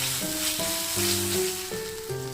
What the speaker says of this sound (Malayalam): ഇത് നന്നായിട്ട് ഇളക്കിയിട്ട് ഇതിൻ്റെ പച്ചമണം മാറുന്ന വരെ ഇളക്കണം